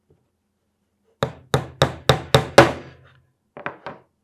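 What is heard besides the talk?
hammering nails into wooden balance board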